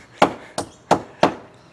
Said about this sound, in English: He's got a hammer and he's not afraid to use it.